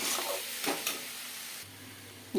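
A papaya curry being stirred in a pan, with soft scraping strokes and a light sizzle from the hot pan, a few distinct stirring scrapes standing out against a faint steady background.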